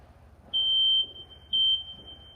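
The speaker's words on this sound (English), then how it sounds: "when you hear the smoke detector going off" Two shrill, high-pitched electronic beeps from a smoke alarm, each about half a second long, spaced a second apart over a low background hum.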